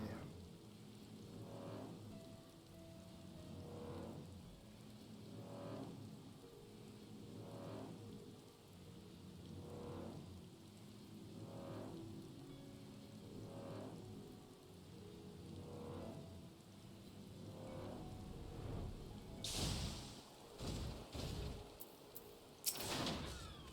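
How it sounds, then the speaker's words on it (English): Soft, steady rain patters in Final Fantasy XIV under a repeating rhythmic ambient pulse, followed near the end by a few sharp, louder crackling bursts. "And it's raining."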